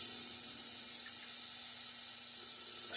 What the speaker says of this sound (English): We'll add some water here.